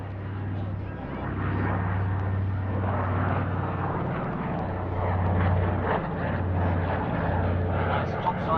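A propeller aircraft flying at the Midlands Air Festival 2021 airshow, a steady droning engine hum that swells slightly, with a commentator talking over it throughout.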